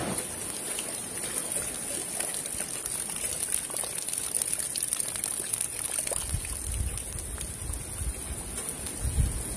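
Rain falling on a barn makes a steady, even hiss throughout, with a soft low rumble building near the end and no voices.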